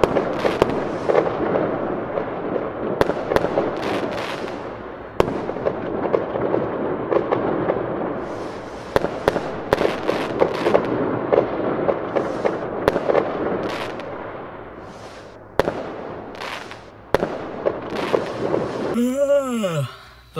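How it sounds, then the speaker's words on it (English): Repeated fireworks booms and crackles echoing at a distance over steady wind noise, with people talking in between. "Those fireworks are pretty cool."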